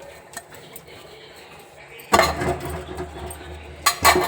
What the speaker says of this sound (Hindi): अब मैं कर देती हूँ बर्तनों को साफ